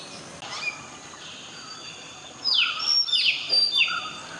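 Hill mynas calling near Udawattakele forest in Kandy, Sri Lanka: an early whistle, then a run of loud, sharp, swooping calls close by over a quiet background.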